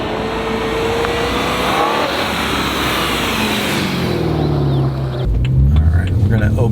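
A BMW E92 M3 sports car driving through turns, its engine roaring steadily up close with bursts of tire squeal, and a shift in engine tone near the end.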